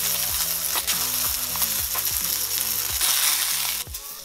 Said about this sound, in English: Now I'm cooking this in a cast iron skillet